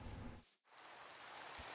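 Steady broadband hiss of rain pouring down in the Minecraft video game, continuous and fairly faint, with a brief dropout partway through before the downpour resumes alone.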